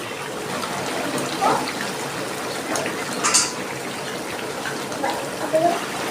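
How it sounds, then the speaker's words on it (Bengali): Small mourola fish go into a hot pan cooking with taro greens, a steady wet bubbling and hiss that stays close and fairly loud throughout, with a few small clinks. "দেখুন আমি ডাকনাটা খুলে নিচ্ছি এই মাছগুলো দিয়ে দিচ্ছি"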